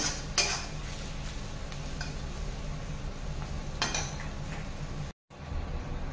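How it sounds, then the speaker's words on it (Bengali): Okra coated with gram flour is stirred in a pan, producing continuous scraping and light clanks of a utensil against metal over a faint sizzle, close and quiet, with one abrupt brief dropout. "তারপর আমি এটাকে বেশ কিছুক্ষণ আবার নাড়াচাড়া করব"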